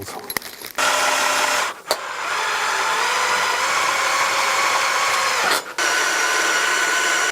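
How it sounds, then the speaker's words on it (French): A power driver sends screws into the corner of a bioclimatic pergola frame, whirring loud in steady bursts of a few seconds each, separated by short pauses and clicks. "je visse avec les vis à 71"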